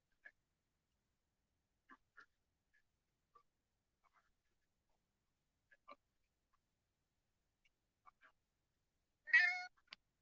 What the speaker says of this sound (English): that's my cat. What's wrong?